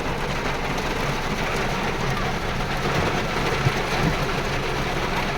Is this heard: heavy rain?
yes